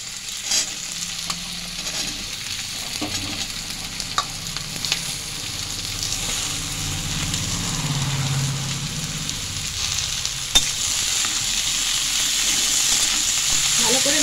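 Onions and cut potatoes frying in a pan, a dense continuous sizzle with scraping and stirring clatter from a utensil, occasional sharp clicks, and no talking.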